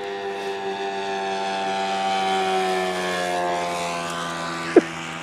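Radio-controlled model airplane with a propeller engine, a steady droning whine holding pitch throughout, moderately loud and close, with a brief sharp click near the end and no talk.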